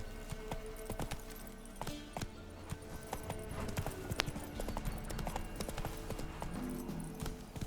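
Horse hooves clip-clop steadily in The Witcher 3 as the mount trots along, a rhythmic run of hoofbeats over faint game ambience with occasional sharper knocks.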